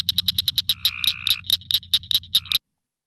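Male frogs call in a rapid clicking chorus, a steady run of sharp, close clicks with a second frog answering in the background, all cutting off abruptly near the end.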